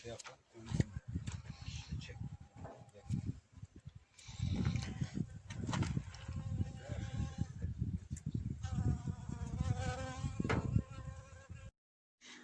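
A bee buzzes close by in intermittent bursts in a vegetable garden, mixed with talking and some bleating-like voice sounds.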